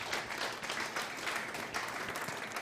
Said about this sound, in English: big round of applause and wish these two players the very best of luck